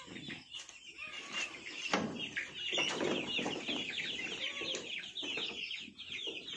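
A flock of chickens clucks and chatters continuously, a busy overlapping chorus of fowl at moderate distance with occasional louder squawks and rustling.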